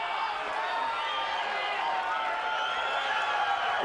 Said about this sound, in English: the crowd really coming to life after an explosive 4th round by Buster Mathis Jr